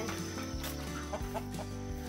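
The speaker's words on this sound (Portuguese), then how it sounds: "achamos outra galinha" Hen clucking on a Brazilian farm, a few soft low clucks close by over steady background music, with no talk.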